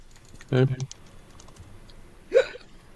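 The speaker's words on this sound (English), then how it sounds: "It's the freaking hiccups, man." Two sharp hiccups, about two seconds apart, burst out over a quiet background during a tabletop fantasy game session, each a brief voiced gulp with no other talk.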